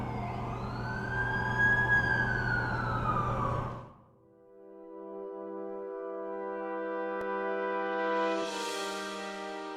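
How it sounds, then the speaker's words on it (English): An ambulance siren in The Amazing Spider-Man video game wails loudly with sweeping pitch for about four seconds, then cuts off and gives way to steady droning tones with a rising hiss near the end. "That's the ambulance I called."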